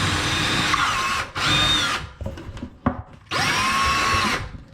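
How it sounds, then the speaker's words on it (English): A power drill with a 1/2 inch bit boring a hole behind a laundry room wall cabinet being installed, loud sustained whirring bursts broken by short pauses and scraping, close by. "use your 1/2 inch drill bit"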